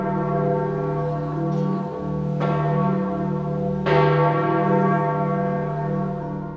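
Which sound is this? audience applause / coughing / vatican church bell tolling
vatican church bell tolling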